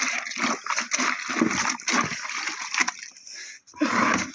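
Water poured to soak clothes after bathing, irregular splashing and sloshing bursts close by, uneven in loudness with a brief pause near the end.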